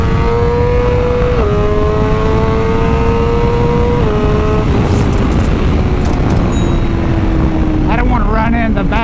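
A 2023 BMW M1000R superbike at full throttle on a road in Mexico, its loud, close engine note climbing steadily through several gear changes with brief dips between shifts, wind noise over it, and a rider's voice briefly near the end.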